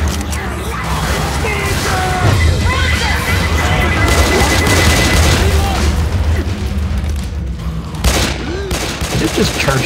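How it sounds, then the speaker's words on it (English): A grenade explodes in Left 4 Dead 2 amid a dense wash of crashes and steady gunfire, loud and continuous throughout, with a voice in the mix. "Grenade!"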